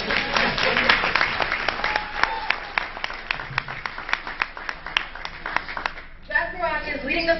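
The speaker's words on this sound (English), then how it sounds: "You better clap for that one." An audience claps at a political event on education, sharp individual claps forming a steady patter that thins out before a voice takes over near the end.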